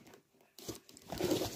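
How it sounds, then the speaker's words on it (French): Short bursts of adhesive tape ripping and crinkling off a cardboard box holding a Parkside gasless wire welder, a quick tear followed by louder rustling and scraping, close and fairly quiet. "Donc j'ai ouvert le scotch"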